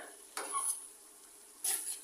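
Okra and potato being stirred in a frying pan: two brief clatters of a utensil against the pan, roughly a second apart, over a faint steady sizzle, close and fairly quiet.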